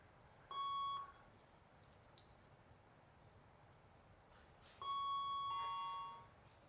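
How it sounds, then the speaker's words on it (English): Two loud electronic fire alarm test tones, each a steady high beep lasting about a second, separated by a pause, over a quiet background hum. "The fire alarm is about to be tested."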